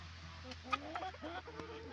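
Soft clucking from a few chickens, including Cochin hens, nearby, with short murmured calls rising and falling over a low background hum.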